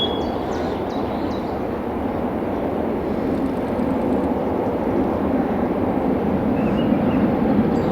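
A ScotRail HST led by power cars 43146 and 43148 on the Inverness to Edinburgh run passes close by, making a steady, loud, even rumble that holds for the whole stretch.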